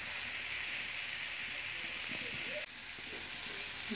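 Dried fish sizzles steadily in oil with cumin, garlic and coriander paste while being stirred, a continuous close frying hiss with faint scraping and a brief bump partway through.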